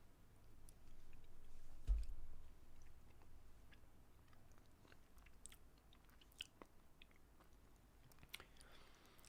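A Maison Cacao whisky chocolate is being chewed up close, with soft crunching and clicking bites that are loudest early on and then thin into sparse, faint mouth clicks, with no talking.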